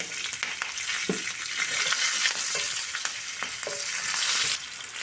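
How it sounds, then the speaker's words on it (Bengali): Green chilies and nigella seeds tempered in hot oil left over from frying fish, sizzling steadily and close with a few stirring scrapes, no talk. "ওই তেলেই ফোড়নে দেব কালো জিরে"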